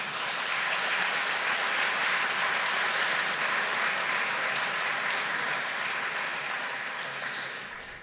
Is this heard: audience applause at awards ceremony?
yes